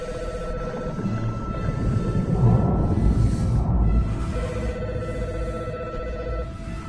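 A telephone rings in a lab scene from the film Hulk (2003), with a repeating electronic ring pattern that pauses in the middle, partly masked by a dense rumble of music and effects.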